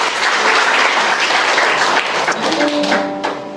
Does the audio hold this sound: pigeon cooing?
no